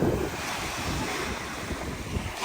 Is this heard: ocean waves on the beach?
yes